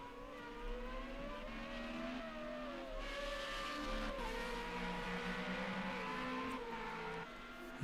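Formula Renault race car engines scream in a racing game, heard from a distance, with several rising and falling whines as the cars shift gears and pass, a continuous buzzing drone with no voices.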